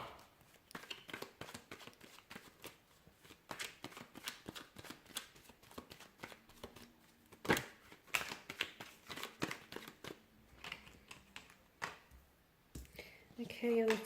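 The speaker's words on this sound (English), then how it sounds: "give the cards a shuffle" Tarot cards shuffled by hand in a long run of dense, crisp riffling and flicking clicks, close and fairly quiet, with brief pauses and a louder flurry near the end.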